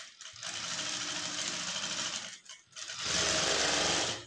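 A sewing machine runs steadily while stitching along the neck edge of a blouse, a loud continuous mechanical whir with a brief pause near the middle before it resumes more strongly.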